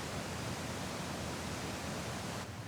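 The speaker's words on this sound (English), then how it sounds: "As you can hear, there is a giant waterfall about, I'd say 25 feet behind me." Constant rushing roar of a large waterfall about 25 feet away at McDowell Creek Park, steady and loud, with no pauses or other sounds.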